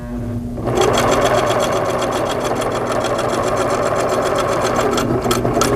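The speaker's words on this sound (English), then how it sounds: "As you continue sewing and getting farther into the center of the quilt, you may want to start to roll the fabric in the inside of the sewing arm here." A Singer sewing machine stitches through a quilt, a fast steady mechanical whir with dense rapid clatter that starts after a brief quiet moment and runs continuously and close, with no talking.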